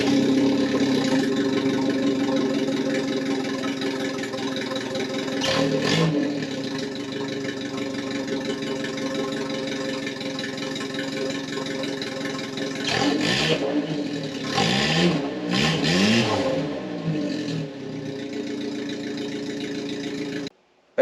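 A factory 1981 Mazda 626 engine revs hard and loud to blow carbon out of the head, with sustained throttle and sharp rises and falls in pitch during the last several seconds before cutting off abruptly.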